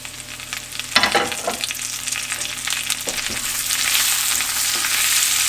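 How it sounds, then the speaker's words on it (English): Fresh spinach sizzles and crackles in a hot pan with garlic while making spinach artichoke dip, a steady frying hiss with a few stirring scrapes, fairly close and alone without talk. "Now we're gonna toss in our spinach."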